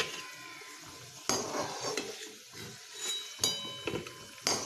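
Potatoes frying in a pan until reddish, with a spatula scraping and clattering against the pan in bursts over a soft, steady sizzle.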